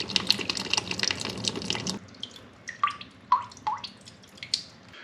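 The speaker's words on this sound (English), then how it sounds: "if we just push the side of that valve, we'll be able to drain out the water that's in it" Water draining and dripping from a towel rail union valve in a bathroom remodel, first a steady rushing trickle for about two seconds, then scattered close drips and splashes.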